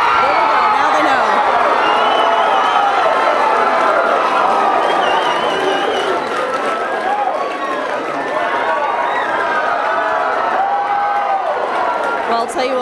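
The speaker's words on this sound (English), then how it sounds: "If you hear cheering, they probably just heard that." A large crowd cheers and roars at James Comer's primary election headquarters, with sustained loud cheering, whoops and clapping that keeps going throughout.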